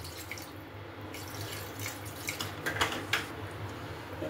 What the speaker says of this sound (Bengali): জলটা এটা একটু পাতলা পাতলা ঝোল হবে, এটা আরেকটু জল দেবো।